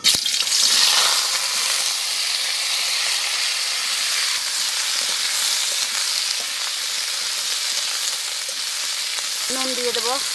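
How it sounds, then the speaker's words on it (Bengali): Raw banana slices frying in mustard oil in a heated wok make a loud, continuous sizzle with bubbling crackle close by, steady for the whole stretch, with a short tonal sound right at the end. "কাঁচকলা দিয়ে দেব,"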